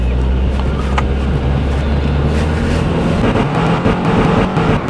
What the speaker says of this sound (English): Take it for a quick test drive